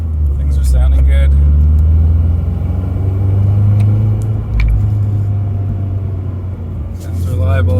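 Nissan Silvia running with a new engine on its first drive under light boost: a loud, steady low engine drone and road rumble fill the cabin, with a few faint clicks and squeaks over it.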